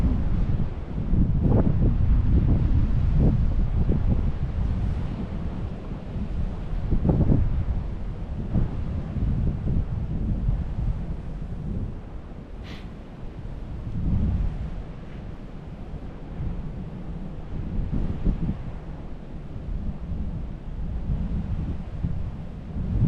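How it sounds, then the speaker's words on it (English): Strong wind buffets an outdoor fishing spot, a continuous loud roar with rumbling gusts swelling and easing, no talk over it. "with that wind ripping like that"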